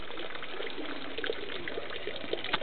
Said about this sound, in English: they drink the water that's running through there